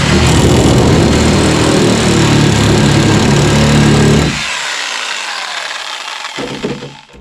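A power tool cuts through a fibreglass car chassis on a mini monster-truck build, loud continuous grinding whine for about four seconds, then the blade stops and spins down, with a brief clatter near the end.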